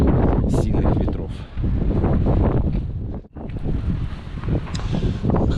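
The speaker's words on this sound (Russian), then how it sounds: "Такой ветер сильнейший поддувает." Very strong wind gusting on the Black Sea coast at Novomikhailovsky in winter, a dense, loud, roaring buffet against the microphone that barely lets up, with someone talking over it throughout.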